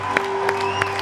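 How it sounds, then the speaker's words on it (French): Applause from an audience at a French-language event, with a few distinct louder claps standing out over a steady tonal hum and background crowd noise, brief and moderately loud. "On va applaudir pour ça."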